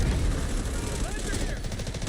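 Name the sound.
explosions and gunfire in a video game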